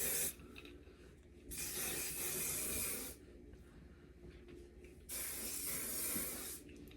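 Hairspray hisses from a can onto a wig in two long bursts of about a second and a half each, close and loud, with quiet pauses between.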